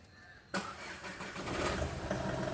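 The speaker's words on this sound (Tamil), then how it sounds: "வண்டி ஸ்டார்ட் ஆகிடுச்சு பர்ஃபெக்டாக" A VW Polo with a starting and idling problem starts up: a short quiet stretch, then the engine abruptly catches and settles into a steady, close, fairly loud running hum.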